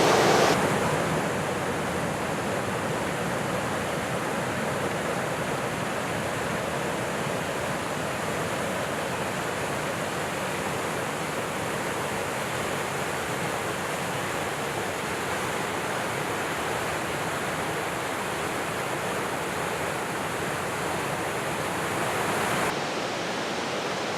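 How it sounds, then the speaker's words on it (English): A loud, steady roar of a swollen river rushing through the Birks of Aberfeldy gorge in Perthshire, a constant torrent with no pauses or other sounds. "There's a massive torrent of water coming through the river at the moment, so it's making it sound really loud"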